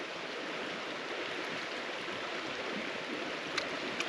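A river stream flows in a steady, soft rush of water beside a wild autumn campsite, heard alone without talk.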